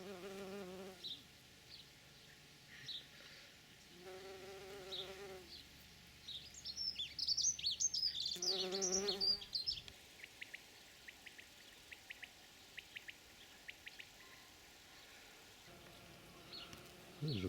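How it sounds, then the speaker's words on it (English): Small red bumblebees buzzing around trefoil flowers in a garden in June, steady close wing drones rising and falling in several passes, with faint bird calls behind. "The trefoil is very much favoured by these little red bumblebees."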